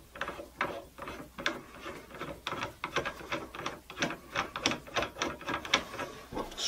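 The turret of a Lee Classic Turret Press, set up with reloading dies, is spun by hand. It gives a rapid, uneven series of close ratcheting clicks and rubbing clatter that runs steadily for several seconds.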